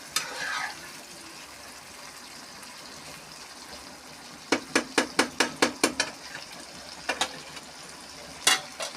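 Pointed gourd and sesame frying in a pan, with a quick run of metallic stirring clinks, a few scattered later knocks and a faint sizzle underneath.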